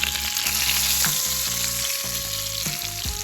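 Sand dabs sauté in a frying pan over medium heat, with a bright, continuous sizzle up close and brief scraping and shifting sounds from the pan.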